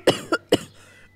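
A cartoon pigeon coughs after drinking bitter water, three sharp coughs in quick succession, close and clear, the last one trailing off into quiet, likely a voiced imitation.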